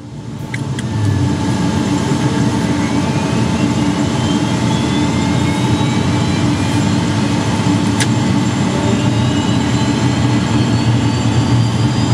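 A Beechcraft Premier business jet's engine starting up, rising quickly to a loud, steady roar with whining tones sweeping upward, close and continuous throughout.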